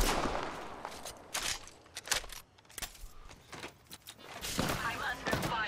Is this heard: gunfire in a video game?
yes